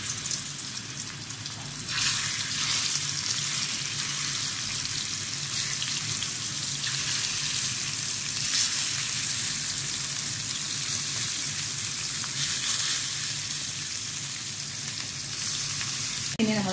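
Prawns frying in hot coconut oil, a steady, dense sizzle that holds loud and unbroken from start to finish, close up, with no voices.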